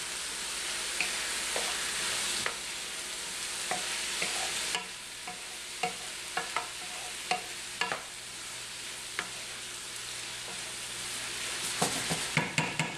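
Chicken and andouille sausage jambalaya being stirred in a pot, a steady sizzle of frying with repeated clicks and scrapes of the spoon against the pot, close and fairly quiet.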